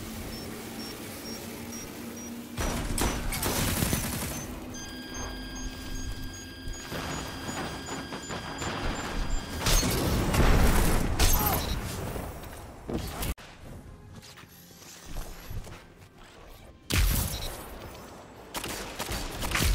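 Rapid gunfire in the shooter game Destiny 2, dense bursts of shots and weapon effects running almost continuously with brief gaps, loud and close over game ambience.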